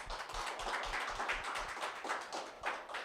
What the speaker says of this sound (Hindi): तो एक बार फिर से तालियां बजा दी जाएं प्लीज।